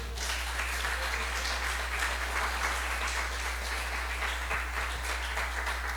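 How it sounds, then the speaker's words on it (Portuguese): A church congregation applauds steadily throughout, a dense wash of clapping under a constant low hum, with no pauses. "Aplauda Ele,"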